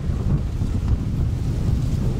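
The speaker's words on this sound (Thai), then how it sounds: "ลมหนาวมา" Cold wind gusting steadily across an outdoor microphone, a dense low rumbling roar with no pauses.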